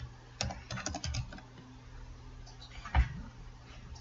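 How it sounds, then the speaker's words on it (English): A computer keyboard clacks in a quick burst of keystrokes, followed by a pause and then one louder, heavier key press near the end. "typing the keyword Civil War."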